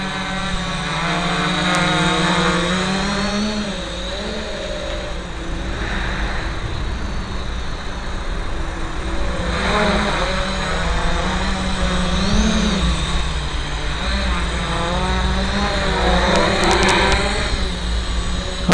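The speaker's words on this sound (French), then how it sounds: "Donc là on est sur un châssis Gaui 330 étendu. Bon, tu vois qu'il est parfaitement stable, hein, Frédéric." An extended-frame Gaui 330 RC helicopter hovers close by, its rotor and motor giving a steady, continuous whine with a slightly wavering pitch, with no voices throughout.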